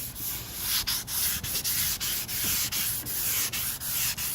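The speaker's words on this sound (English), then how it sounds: "You don't have to sand this very much either to figure out what's going on." A 2003 Cadillac CTS quarter panel is wet sanded by hand, with close, steady rhythmic rubbing strokes about twice a second and nothing else heard.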